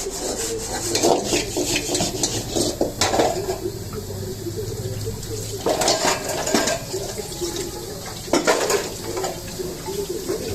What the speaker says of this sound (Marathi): बघा मी किती फास्ट भांडे घासते